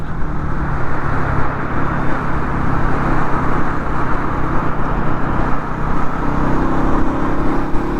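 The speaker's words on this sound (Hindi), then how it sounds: "बहुत ट्रैफिक है भाई, सीरियसली ब्रो, बहुत ट्रैफिक है, बहुत।" Heavy road traffic on a ride from Jaipur to Uttarakhand gives a dense, continuous roar of engines and tyres, loud and close for the whole stretch, with no break and nobody talking.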